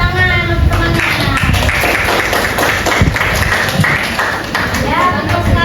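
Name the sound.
classroom applause for classmates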